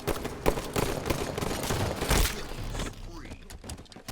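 Grenade blasts and gunfire crackle in a busy MGL SvS playoff match between Reign and Crazed Gaming, dense bursts and thuds stacking up for four seconds with a speaking voice mixed in.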